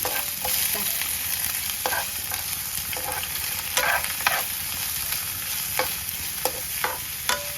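Onions and green chillies frying in a pan, a steady close sizzle with occasional scrapes and taps of a spoon stirring, continuous throughout, with no talking.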